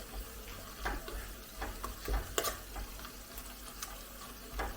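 Chili powder frying in a pan for a spicy tapioca dish, with soft sizzling and intermittent scraping stirs of a spoon, faint and close.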